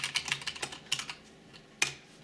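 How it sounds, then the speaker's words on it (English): Typing on an Akko Ocean Star SP 84-key mechanical keyboard with a metal plate: a quick run of close, crisp key clacks, then a pause and one last sharp keystroke. "So let's just do a little typing."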